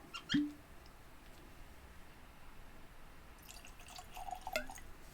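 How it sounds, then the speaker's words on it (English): Ardnamurchan Cask Strength single malt whisky, 58.7% ABV, is poured into a glass. A brief clink of glass comes first, then soft trickling and dripping that is quiet and close, with no voices. "So let's get some in the Ardnamurchan glass."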